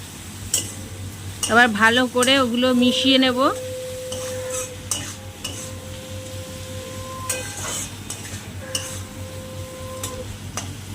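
Shrimp sizzle in a frying pan under steady stirring, with scattered clinks of a utensil against the pan; a voice talks briefly near the start and soft tonal hum lingers beneath.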